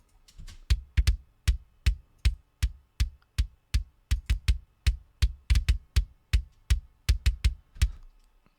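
A clipped bass drum from a metal drum mix thumps in a steady, evenly spaced series of about twenty punchy, close hits, heard alone without talking.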